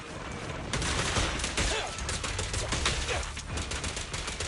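Rapid bursts of gunfire crackle in Zenless Zone Zero, dense overlapping shots firing in quick succession at moderate loudness with no pauses.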